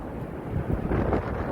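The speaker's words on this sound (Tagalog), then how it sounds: "Grabe yung hangin!" Strong, gusty wind on a cold, snowy day in Seoul buffets the microphone with a loud, rumbling roar that rises and falls over a short stretch, with no voices.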